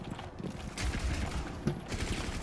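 Rapid bursts of gunfire from the Rainbow Six Siege video game, a few sharp clusters of shots over a steady background, with no talking.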